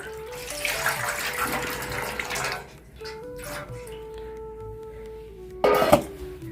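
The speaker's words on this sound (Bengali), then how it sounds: "দেখো এগুলো জল আমি এখানে দিয়ে দেবো" Water poured off soaked rice into a container, a steady splashing stream for about two and a half seconds, then a quieter trickle and a brief louder splash near the end, close by.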